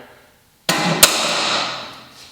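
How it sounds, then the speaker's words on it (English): A sudden sharp metallic snap from an automatic center punch striking metal, followed by a quick second strike and a ringing decay in a quiet space. "Then I'm gonna take a center punch, automatic center punch."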